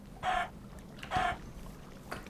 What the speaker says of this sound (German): Oh, da ist ein böses Huhn.